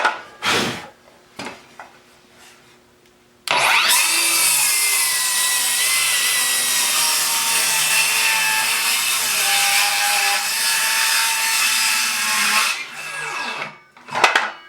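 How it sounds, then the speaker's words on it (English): A Ryobi brushless cordless saw running on a 2Ah battery cuts through wood in one loud, close, sustained rasping whine of about nine seconds, framed by brief clicks and knocks before and after. "this saw cuts just as fast as a corded saw, if not maybe a little bit faster even"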